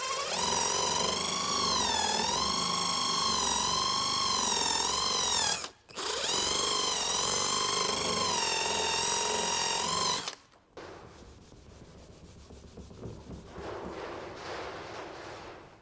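A polishing machine buffs a small dab of polish across a car's front fender during paintless dent repair, its loud steady whine wavering in pitch for two long runs broken by a brief stop, then fading to a softer hiss.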